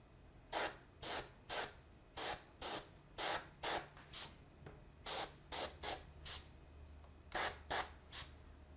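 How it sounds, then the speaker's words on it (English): Short hissing bursts of airbrush spray, purple ink being misted, come in irregular groups of close, clean puffs with quiet gaps between, and no voice over them. "I'm taking actual purple ink, and I'm sort of misting it up into the more vibrant magenta and toning it down just a little bit"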